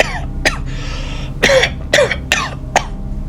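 A person coughs hard about six times in short, ragged bursts with throat clearing in between, close and loud, after drinking a bitter, burning liquid.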